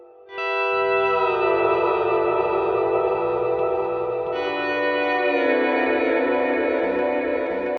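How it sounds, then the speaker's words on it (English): An electric guitar runs through a Neural DSP plugin controlled by a Line 6 Helix, with delay switched on. A loud, sustained, shimmering chord repeats and smears into echoes, then shifts pitch midway while the wash of repeats keeps going. "And I can also activate the delay."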